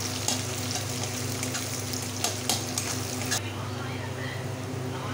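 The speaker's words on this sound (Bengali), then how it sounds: "পেঁয়াজটা আমি একটু ব্রাউন করে ভেজে নেব।" Onions frying in oil until brown for a jackfruit curry cooked in goat fat, a close steady sizzle with occasional spatula scrapes and clinks against the pan.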